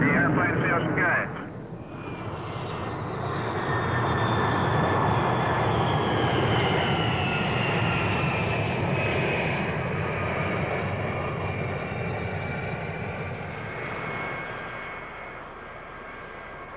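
Boeing 707 jet engines in flight during a test climb, a steady loud broadband roar with a faint whine, continuous throughout and partly under speech.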